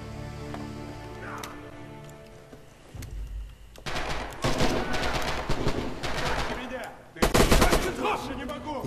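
Fully automatic weapon fire in Red Orchestra 2 crackles in loud rapid bursts, first around the middle and again near the end, over a quieter battlefield ambience with a voice heard early on.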